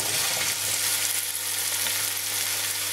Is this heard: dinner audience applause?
no